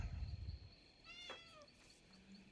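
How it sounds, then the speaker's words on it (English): A pet cat gives a single short meow, faint and somewhat distant in a quiet room. "I hear my kitty cat."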